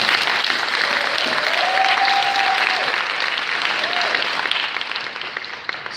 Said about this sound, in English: So can we clap for them one more time?